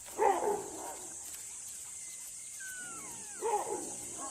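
A pack of African wild dogs calling at night on the savannah, with two short bursts of calls near the start and near the end, a faint rising whistle-like call between them, and a steady background of night insects.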